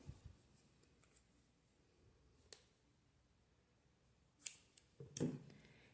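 Scissors cut amigurumi yarn in a quiet room, giving a few faint isolated snips followed by a louder, closer double snip and rustle near the end, with no talking.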